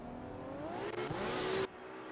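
Drift cars idle at the start line at Silverstone, including a Ferrari, with a rising engine rev and whine that climbs steadily and then cuts off abruptly.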